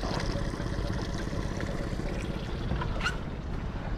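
A 2013 Yamaha 8 hp four-stroke outboard motor fitted with a 9.9 carburetor drives a boat, giving a steady, loud engine drone mixed with water and wind rush and no talking.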